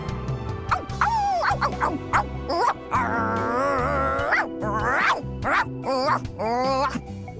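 A robot character in dog mode in Xenoblade Chronicles 2 makes a run of loud, warbling bark-like yips and whines, layered over game music and continuing almost without pause.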